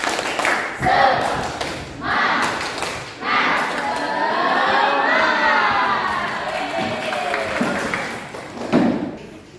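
Children in an Indonesian primary classroom shout a rhythmic tepuk semangat clapping chant together, their voices loud and bunched into bursts with claps and thumps underneath, swelling into sustained group chanting before a final shout.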